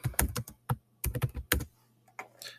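Fast clicking keystrokes on a computer keyboard while entering spreadsheet data, close and crisp, in short uneven bursts with brief pauses.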